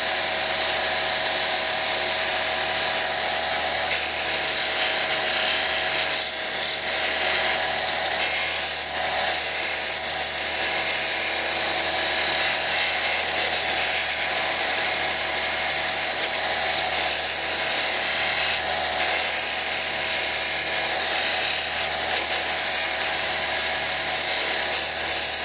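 Chrysocolla cabochon held against a 600 grit lapidary wheel, giving a steady, loud, high whirring grind that runs unbroken and evenly with no talking.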